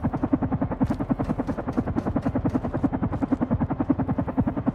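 A helicopter in the Carrion video game: a loud, steady rapid rotor chop, pulsing evenly and continuously throughout with no talk over it.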